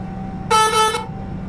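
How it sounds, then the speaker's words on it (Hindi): A basic vehicle horn in Euro Truck Simulator 2 gives one short, loud blast of about half a second over a steady engine drone, with no speech. "ये दूसरा बेसिक जो हॉर्न है उसका वो तो अजीब सही है, ये भी ठीक है नॉर्मल है"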